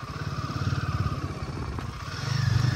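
A Royal Enfield 452 cc motorcycle being ridden, its engine thumping in a steady pulsing rhythm close by, easing slightly and then building louder again toward the end.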